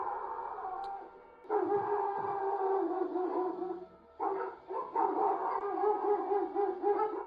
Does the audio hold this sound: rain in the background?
no